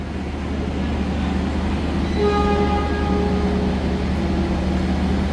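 A KA Jayabaya New Generation stainless steel train, with executive cars built by PT Inka in 2024, rumbles past loudly and steadily. A sustained horn-like tone sounds midway through over the continuous rolling noise of the rail cars.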